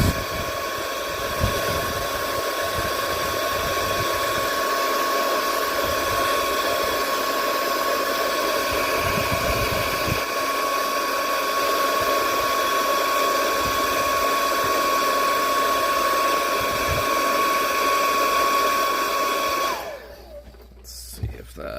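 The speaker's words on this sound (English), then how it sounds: "I think I might have to use my hair dryer for a short amount of time just to get that glue to" A hair dryer runs steadily, warming and softening glue on a Disney Tinkerbell snowglobe, with a continuous whine and airy rush for about twenty seconds before it cuts off abruptly near the end.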